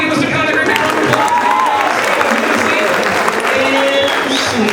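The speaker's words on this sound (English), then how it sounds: "Everybody give Mr. Conner a great big round of applause." A room full of schoolchildren gives their teacher a big, dense round of applause at an anti-bullying assembly, constant loud clapping mixed with excited voices and squeals, close and filling the space.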